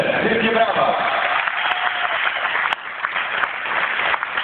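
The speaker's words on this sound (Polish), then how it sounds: "wielkie brawa!" Audience applause rings out at a Polish ceremony honouring line judges, a steady wash of clapping that holds for the whole stretch while a voice talks over it.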